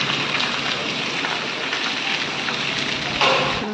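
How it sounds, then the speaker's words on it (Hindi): Heavy evening rain pours down steadily in a dense, close hiss, with a slightly louder burst near the end and no speech. "अभी बज रहे हैं शाम के 7 और बारिश देखो कितनी तेज़ हो रही है"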